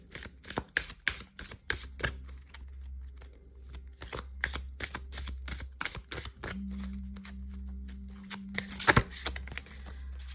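Tarot cards being shuffled close by, a long run of quick papery riffles and soft slaps in uneven bursts, with a faint low hum underneath and no talking.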